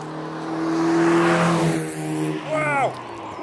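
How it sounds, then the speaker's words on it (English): A Mazda MX-5 drives past at a roundabout in Stirling, Scotland, its engine hum swelling loud and close and then easing off, with a brief higher tone near the end. "It's a Mazda MX-5"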